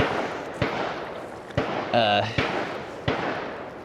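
Gunshots from people shooting near a river, heard during a solo kayak trip: several sharp, loud reports spaced about a second apart, each with a trailing echo, plus a brief tonal sound in the middle.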